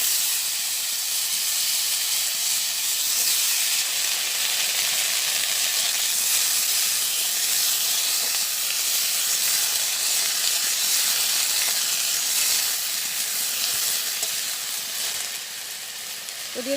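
Taro stolons hiss and sizzle steadily in a wok, a continuous bright frying noise that stays loud and even from start to finish, with no talking.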